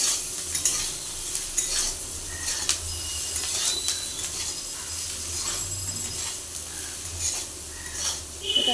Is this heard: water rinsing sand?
no